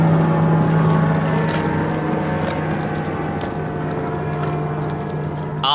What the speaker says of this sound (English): I'm gonna let this boat go by